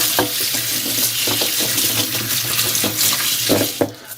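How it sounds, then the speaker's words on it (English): Lemongrass being washed under a running kitchen tap, a steady loud hiss of water splashing into the sink with occasional louder splashes as the stalks are handled, no talking. "So let's wash the lemongrass."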